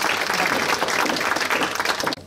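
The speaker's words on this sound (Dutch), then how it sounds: "Super, ja, applaus." Audience at the Miss Waasland 2022 pageant breaks into dense, steady applause that fills the room, then cuts off abruptly near the end.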